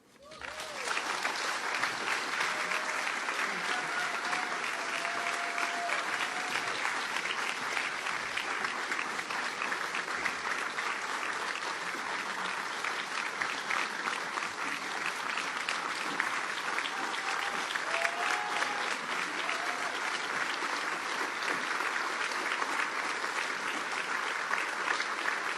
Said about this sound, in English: Well-deserved applause and an extraordinary symmetry, really, on the 20th anniversary